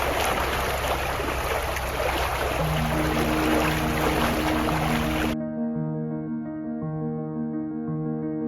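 Water rushes through the open gate paddles into a lock on the Staffs & Worcester Canal as a loud broadband roar. Partway through it cuts to a steady mix of tonal hums over lower rushing water.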